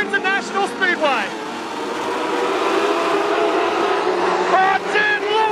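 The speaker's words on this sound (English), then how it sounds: "a race start for the Modlites here at Autobarn Carina International Speedway" Modlites race cars roar off at a race start at Carina Speedway, engines revving up and climbing in pitch, then blending into a sustained loud drone as the pack pulls away; a commentator talks over the opening.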